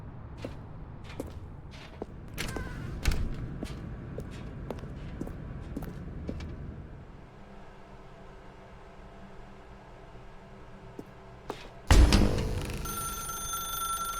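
In the video game The Stanley Parable, footsteps and sharp clicks give way to a quiet low hum in a dark room, then a telephone rings loudly and abruptly near the end.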